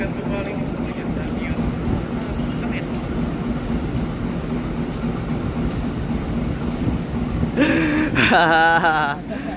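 A train pulls away from a busy Indonesian rail station platform after passengers alight, a continuous low rumble of rolling wagons with rhythmic clatter, ending in a loud near squeal of wheels or brakes, while voices talk on the platform.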